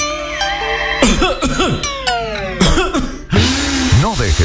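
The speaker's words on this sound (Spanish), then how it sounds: "No dejes que la tos te juegue una mala pasada." Several harsh, chesty coughs in a Spanish-language cough syrup commercial, coming in bursts close up with short gaps between them, over a background music bed.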